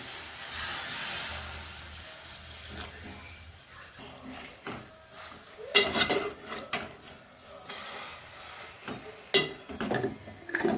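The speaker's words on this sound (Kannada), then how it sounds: "ಕುಕ್ಕರ್ನ ಕ್ಲೋಸ್ ಮಾಡ್ತಾ ಇದ್ದೀವಿ." A pressure cooker lid being shut over biryani cooking in a home kitchen: several sharp metallic clanks and clatters of steel cookware, close and moderately loud, among softer handling noises.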